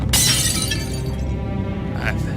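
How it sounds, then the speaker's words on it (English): In the video game Shadowgate, a hammer swing shatters a mirror in a sharp burst of breaking glass, with a bright crash and a trailing shimmer and a second glassy tinkle near the end. "You make a mighty swing with the hammer. A good section of the mirror shatters, revealing metal."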